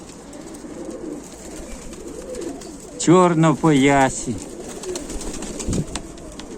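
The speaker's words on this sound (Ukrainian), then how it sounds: "Отакі ці голуби." High-flying tumbler pigeons coo in a couple of throaty, rolling bursts, close and fairly loud, between stretches of someone talking softly.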